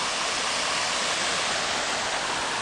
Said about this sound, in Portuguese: Aqui é uma cachoeirinha.